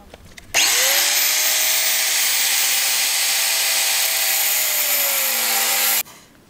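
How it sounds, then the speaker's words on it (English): A grinder cutoff tool cutting at close range, a loud, continuous high-pitched whine that starts abruptly, holds steady for about five seconds with a slowly falling tone, then cuts off. "It's like a grinder cutoff tool."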